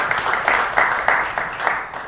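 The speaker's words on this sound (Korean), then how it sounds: "박수 부탁드리겠습니다." An audience at an expert panel debate on youth employment and startups breaks into short, moderately loud applause, with scattered clapping in uneven pulses that fades out within a couple of seconds.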